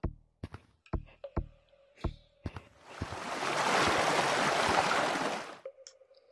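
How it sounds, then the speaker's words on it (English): Water drips in a cave in the Gorilla Tag video game. A string of separate plinking drops is followed by a few seconds of steady rushing water that cuts off abruptly. "this is dripping way faster"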